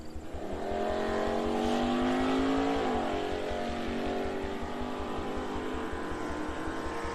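A drag race at TriState Raceway between a Chevelle and a 2018 all-wheel-drive Audi, with loud roaring engines accelerating hard down the track, rising revs and pulsing exhaust, then fading slightly toward the end.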